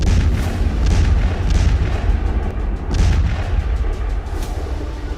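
Indian Army tanks firing on a battlefield range: a loud, deep run of heavy booms follows in quick succession, roughly one every second, with a low rumble carrying between shots.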